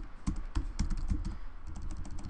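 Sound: typing on a computer keyboard

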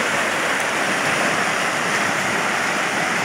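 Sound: river flowing

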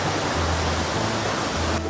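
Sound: waterfall

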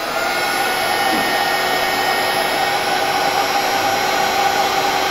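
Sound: hair dryer or heat gun shrinking heat-shrink tubing

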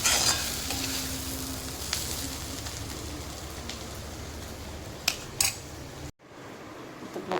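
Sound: onions frying until brown

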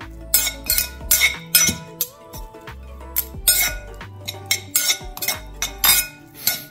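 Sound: mixing pomelo fruit salad in a bowl

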